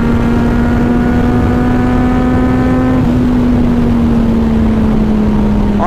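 A 2023 red Kawasaki Z900 motorcycle engine, loud and close, holds a steady droning note that shifts slightly in pitch as the rider downshifts, with no talking over it.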